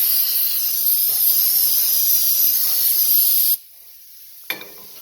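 Brake cleaner aerosol sprays onto Honda Accord brake parts in a loud, steady hiss lasting a few seconds, then cuts off, followed by one short extra spurt.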